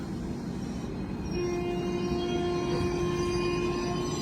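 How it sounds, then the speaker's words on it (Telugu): A Rajdhani Express train horn sounds in a long sustained tonal blast, loud and near, over the rumble of rail cars, alone without voices. "హాంకింగ్ విన్నారా?"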